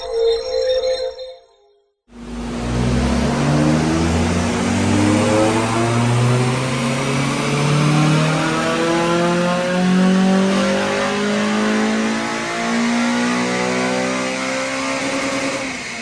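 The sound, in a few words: Honda Civic EP3 Type R engine revving on dyno power run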